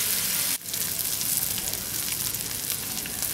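Kerala-style fish pollichathu fries in a pan with a steady, close hiss of sizzling oil that continues after a brief dip near the start.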